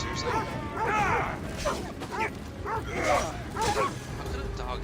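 A dog in the video game Assassin's Creed Odyssey gives several yelps and barks in short bursts, mixed with game effects and close, loud talking.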